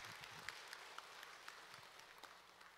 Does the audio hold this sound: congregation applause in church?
yes